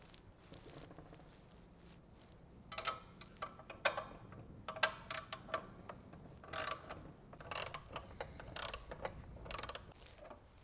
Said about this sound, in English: Now that we've removed the fairing, we're gonna remove these 4 bolts.